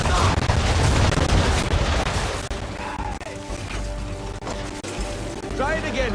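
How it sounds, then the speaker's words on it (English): Ship cannons firing a broadside in the Assassin's Creed 3 naval game, a loud rolling barrage of booms and crashes layered over battle noise, game music and shouted voices. "aim all guns at her bow and do as much damage as possible. On me! Fire broadside!"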